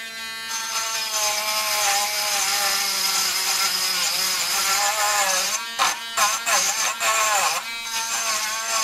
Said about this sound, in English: It's grinding the nail